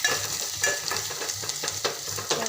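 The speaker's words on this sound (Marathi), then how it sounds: "लसणाची पेस्ट घालत आहे त्याला छान असं मस्त हलकंसं असं तेल सुटेपर्यंत शिजवून घेणार आहे" Garlic paste cooks in oil for a vegetable dish, with a soft sizzle and rhythmic scraping strokes as it is stirred, close up and without speech.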